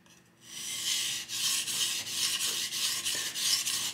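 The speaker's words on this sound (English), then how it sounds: "sharpening the front side of our knife" Steady rasping strokes of a knife blade drawn across a sharpening stone, the front side being worked, repeating in an even rhythm of about one pass every half second, close and alone.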